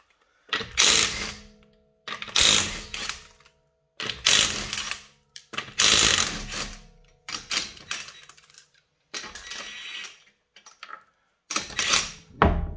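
Wheel nuts coming off a Toyota C-HR using a socket tool: about seven loud, close mechanical ratcheting bursts, each lasting about a second, with short silent gaps between them.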